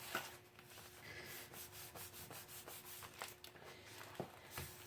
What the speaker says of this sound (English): I'm going to get that all the way down into the page and then give it a good rub